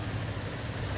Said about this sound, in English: Good sounding engine. Nice and smooth.